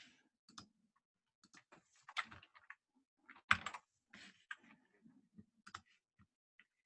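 Rapid keystrokes on a computer keyboard while writing code in a browser editor, irregular clusters of crisp clicks, close and moderately quiet, with no talking.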